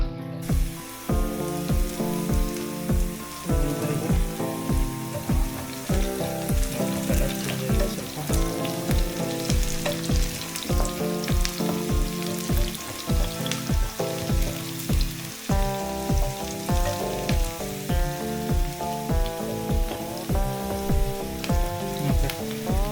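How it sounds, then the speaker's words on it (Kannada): Chopped onions and green chillies for egg bhurji fry in an oiled pan on the stove, a steady, close sizzle with a pulsing crackle that continues without a break. "ಜಸ್ಟ್ ಈರುಳ್ಳಿ, ಮೆಣಸಿನ್ಕಾಯಿ ಸಾಕು. ಒಂದು 2-3 ನಿಮಿಷ ಬೇಯಿಸ್ಕೋಬೇಕಾಗುತ್ತೆ."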